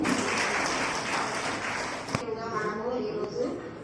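Loud, dense applause from a crowd at an International Women's Day celebration in an ICDS office in Husnabad, sustained for a couple of seconds then thinning into scattered clapping as a voice begins over it.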